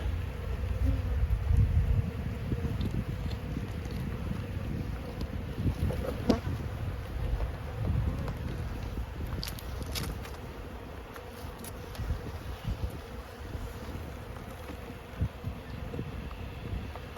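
Honeybees drone continuously around an opened, boosted hive, a dense close buzz with individual bees flitting past the microphone and light wind rumble underneath.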